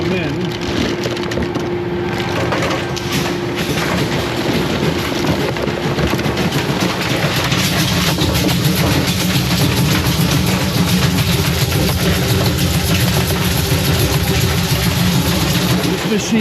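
A low-speed granulator grinds plastic sprues and molded parts, giving a steady, loud, continuous mechanical churn with dense crunching and rattling that holds throughout without pause.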